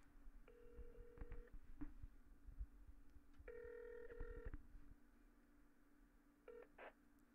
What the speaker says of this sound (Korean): 이제 우리 전화 가네요.